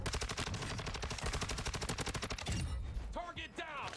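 Rapid automatic gunfire from the Call of Duty Warzone 2 video game rattles in a dense fast burst for a few seconds, then gives way to a voice speaking.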